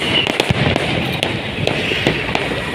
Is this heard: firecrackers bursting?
yes